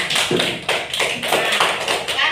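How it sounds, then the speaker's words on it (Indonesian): Schoolchildren in a classroom clap for a classmate, a quick run of sharp, close hand claps repeating in bursts without a steady rhythm, with no voices over them. "tepuk tangan untuk temannya"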